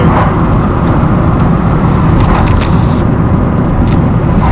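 A car drives along the B181 through Epping Forest, a steady loud rush of road and engine noise filling the whole stretch with no pauses.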